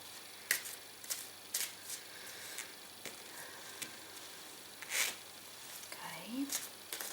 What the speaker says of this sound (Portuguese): E estou a baralhar.